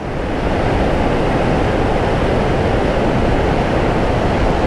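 A mountain river rushes beneath a wooden footbridge in the remote Chapursan valley near the Afghanistan and Tajikistan border. The water roars loud and close as steady, unbroken broadband noise, with no voices over it.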